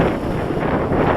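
Strong gusting wind buffets the microphone outdoors on a very windy day while a small Eachine H8 Mini quadcopter is flown, a loud, steady broadband rumble and roar with no pauses.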